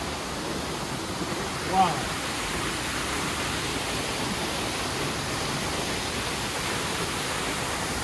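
Waterfall near Pakse in Laos, a dense, steady roar of falling water filling the scene, with a brief exclamation from a voice partway through.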